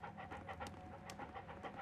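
A dog pants in quick, steady breaths in the Sherlock Holmes: Crimes & Punishments video game, soft and continuous over faint background game ambience.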